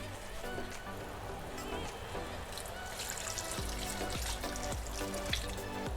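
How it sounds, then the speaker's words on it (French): Marinade poured into liquid caramel coating pork in a pan for Vietnamese caramel pork with pineapple, a steady watery trickle and sizzle running throughout, with soft knocks in the pan in the last seconds. "on peut jeter la marinade dedans. Donc on imbibe bien la viande de ce caramel, qui est encore à l'état liquide"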